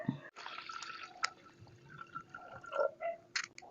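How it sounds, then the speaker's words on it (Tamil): Water poured over about twenty grams of nannari root to soak it overnight, giving a quiet run of splashing, dripping and trickling with a few brighter drops toward the end. "அவ்வளோதான் நம்ம தண்ணி ஊற்றியாச்சு"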